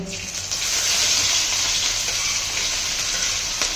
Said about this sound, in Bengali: দিয়ে দিল পেঁয়াজ আর লঙ্কা